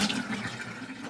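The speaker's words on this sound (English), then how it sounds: "Rinse it off with the water." Tap water runs steadily over produce being rinsed after soaking in dissolved salt, a close, continuous splashing wash lasting about a second with no talk.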